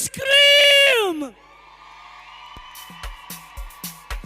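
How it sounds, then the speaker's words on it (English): A crowd of youths at an EmpowaYouth Week event in Vaal screams and cheers in one loud, rising burst that fades after about a second. Scattered claps and faint voices follow in a large hall. "Vaal, can you scream?"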